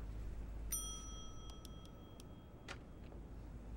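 A bright metallic bell dings at a hotel front desk in the video game The Wolf Among Us: one clear ring with a lingering tone, followed by a few quieter clicks and ticks.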